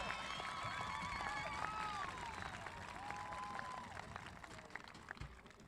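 A crowd at a high school graduation ceremony claps and cheers in a dense, sustained wash of applause, with whistles and shouts rising over it near the start.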